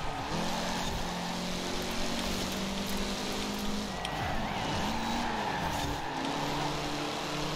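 Racing cars overtake in the video game Forza Horizon, with steady engine drone, whining gear pitch shifts and squealing tires sweeping up and down across the stretch, engines loud and close throughout.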